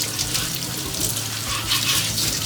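Yellow carrots scrubbed under a running tap, a continuous loud splash of water with rubbing in the stream, close and without speech.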